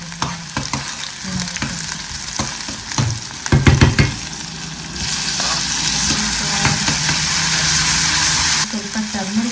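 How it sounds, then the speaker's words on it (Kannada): Cabbage and other ingredients frying in a small pan, a steady close sizzle with sharp clatters of stirring early on, then a louder, more intense hiss as more goes in; a voice speaks briefly. "ಇದಿಷ್ಟು ಫಸ್ಟು ಚೆನ್ನಾಗಿ ಫ್ರೈ ಮಾಡ್ತೀನಿ"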